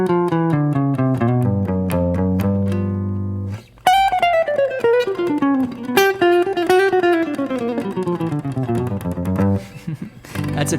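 A guitar runs a flowing single-note bebop dominant scale line up and down, with a sustained low note at first, then a quick descending chromatic passage.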